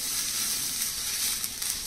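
Spices, chana masala and chilli fry in hot oil for a sprouted chana sabji, giving a steady, close, crackling sizzle throughout with a few small pops.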